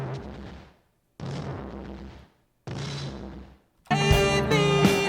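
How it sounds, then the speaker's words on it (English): Booming, explosion-like kick drum hits in a song mix, three separate heavy thuds with gaps of silence between them, then a final hit layered under dense full-band music. "this exploding kind of sounding kick drum that I put in here"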